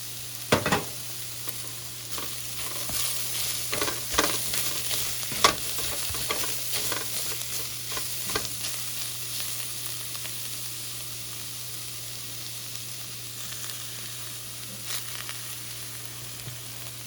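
Garlic frying with carrot and onion in a pan makes a continuous close sizzle. Repeated stirring clatters and scrapes come through early on, then the hiss settles to a steady level with no talking.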